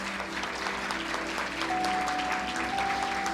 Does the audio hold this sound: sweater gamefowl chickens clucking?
no